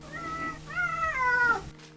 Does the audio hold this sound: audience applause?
no